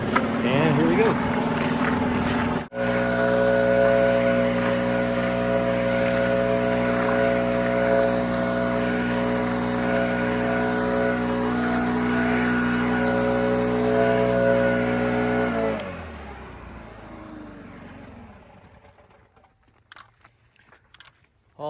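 Stihl BR800C-E backpack leaf blower clearing ice, a loud, steady engine drone with a strong hum that holds for about fifteen seconds before the throttle drops and the sound dies away to quiet.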